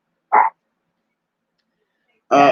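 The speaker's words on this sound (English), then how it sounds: "what you barking at, baby?" A dog gives two short, sharp barks, about two seconds apart, with silence between them.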